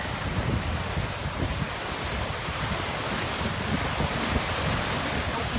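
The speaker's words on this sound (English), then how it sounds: "You can see here where the waves are digging down to the rocks and the sand is being torn away." Waves pound a rocky, sandy shoreline during a wind storm, a dense continuous roar of surf mixed with buffeting wind noise, loud and steady throughout with no voices.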